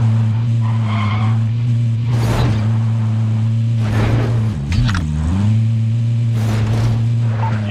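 A car in Call of Duty Warzone Pacific runs with a steady engine drone while its tires squeal and skid several times, loud and close, with no talking.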